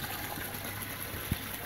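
Water flowing out under good pressure, a steady close rushing hiss with a brief splash partway through.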